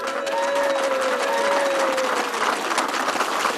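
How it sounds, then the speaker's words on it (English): Applause from a political party conference audience in Blackpool, with dense steady clapping and some crowd voices; a faint whistle-like tone runs through the first half. "I'd like from everyone who's here a huge round of applause for the people out there who made it possible."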